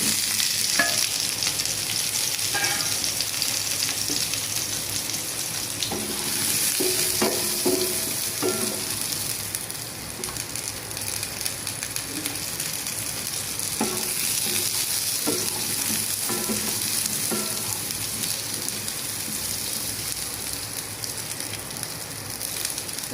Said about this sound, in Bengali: কড়াইতে তেল দিয়ে দিচ্ছি। আমার কড়াইটা গরম হয়ে গেছে আপনারা। আমি এখন এই যে আলুটা দিয়ে দেব।